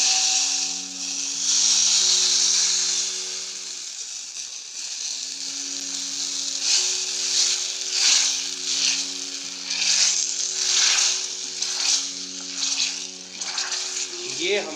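Hot tempering (tadka) sizzling as it is poured into bhatt ke dubke, a black soybean dish from Munsiyari: bursts of hissing and crackling over a low hum, with a voice talking.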